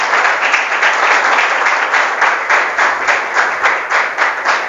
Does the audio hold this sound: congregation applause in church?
yes